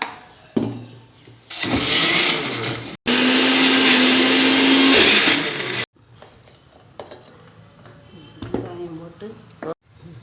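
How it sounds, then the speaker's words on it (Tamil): A mixer grinder whirs loudly in two bursts, grinding coriander powder with water into a spice paste, with a short pause between them, and a person talks before and after. "பொடி போட்டு தண்ணி ஊற்றி அரைக்கணும்"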